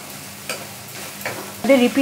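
Soaked chana dal frying in white oil with mustard seeds, onion and curry leaves, a soft close sizzle with a few spatula taps and a louder burst of crackling near the end.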